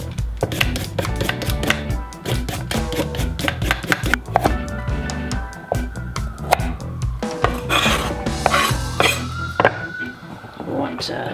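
A knife chops carrots on a board for vegetable soup in rapid, uneven strokes, loud and close, with scraping and a clatter of pans and utensils while a person talks intermittently.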